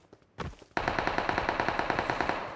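Automatic gunfire in the PUBG / BGMI battle royale game on the Erangel map: a short burst, a brief pause, then a long, loud, evenly paced string of rapid shots, close and with no talking.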